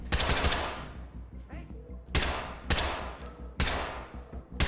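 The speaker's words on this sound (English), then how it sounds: "Sorry, I'm shooting at the stairs" Gunfire in the tactical shooter Ready or Not: loud, rapid automatic bursts, three or four sharp volleys separated by brief gaps, close and dominant, with a voice faintly under the shots.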